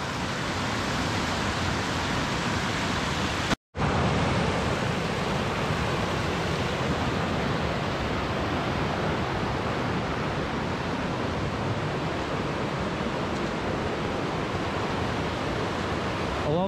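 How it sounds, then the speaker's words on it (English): A high, ferocious river rushes over carved sandstone in wild Scottish landscape, a steady, loud, broadband roar of churning water that fills the whole clip, with one brief dropout early on. "look at this, the river's quite high and ferocious around here folks."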